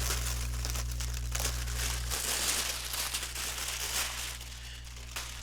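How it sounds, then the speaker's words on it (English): Cellophane wrapping peeled off a Bachmann Chessie Special steam HO train set box gives close, continuous crinkling and crackling over a low steady background hum. "it felt pretty fresh opening the cellophane off"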